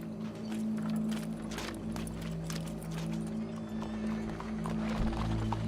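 Steady clip-clop of horse hooves trotting in Red Dead Redemption 2, close and continuous, over a low droning background hum with no talking.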